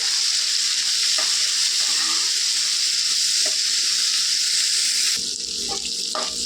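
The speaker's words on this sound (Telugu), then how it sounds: "కరివేపాకు కొద్దిగా వేగిందండి" Curry leaves and coriander frying in a pan for a chutney, a loud, steady sizzle close up that continues throughout and eases slightly near the end, with occasional stirring clicks.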